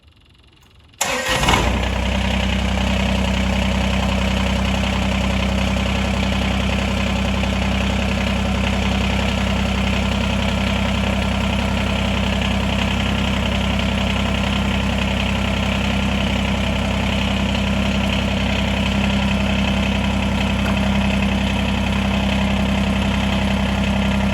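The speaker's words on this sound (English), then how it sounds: "We'll fire the tractor up and see what we have." A small diesel engine on a Kubota BX2380 compact tractor cranks and catches after a second of quiet, then idles loudly and steadily with a low, even rumble.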